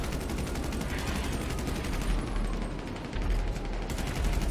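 Rapid automatic gunfire in GTA 5, a dense, continuous rattle of shots going on for several seconds, fairly loud and with no talking.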